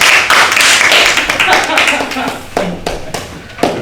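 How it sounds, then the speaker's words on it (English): Audience applause welcoming an ambassador at a lecture, a burst of clapping that thins out with a few scattered claps, mixed with voices. "Let's give Ambassador a round of applause and welcome him."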